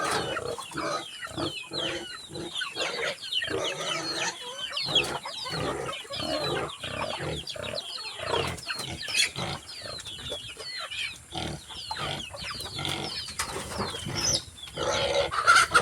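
Many chickens cluck and squawk continuously in a busy, crowded chorus, with grunting pig-like noises mixed in.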